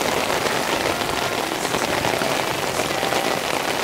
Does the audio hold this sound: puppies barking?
no